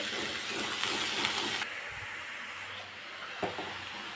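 Greens dropped onto fried onions in hot oil set off a loud, steady broadband sizzle that abruptly drops to a quieter hiss partway through, with a soft clunk near the end.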